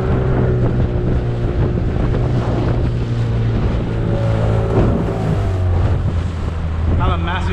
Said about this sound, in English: Look at the size of that swell.